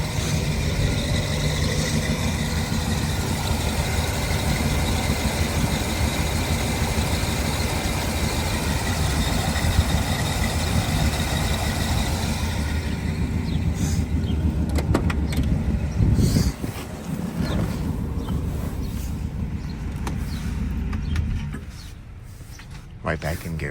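A 1966 Pontiac GTO with numbers-matching engine and four-speed idles smoothly and fairly quietly, a steady low rumble holding close and even for most of the stretch before easing off near the end, with occasional talk over it.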